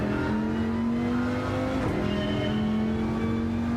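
Viper race car engine in Gran Turismo 7 holds a steady, droning engine tone with a slight rise in pitch, a continuous loud note with no voices over it.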